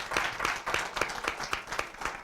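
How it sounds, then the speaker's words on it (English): A small audience at a 2019 spelling bee claps for the round 8 spellers, with distinct, fairly regular individual claps close by and moderately loud for a couple of seconds. "let's have a round of applause for our round 8 spellers"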